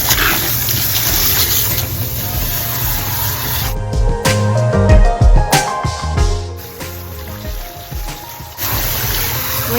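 Running water rinses liquid conditioner out of locs, a steady close spray and splash with shifting trickles and drips as the flow is interrupted and resumes.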